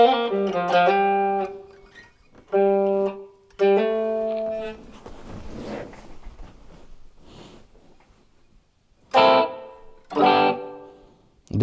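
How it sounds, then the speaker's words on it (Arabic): An electric guitar played through a Boss ME-8 multi-effects unit rings out in short strummed chords and notes, separated by pauses and softer scratchy handling noise, close and fairly loud with no talk. "نسمع صوت الجيتار"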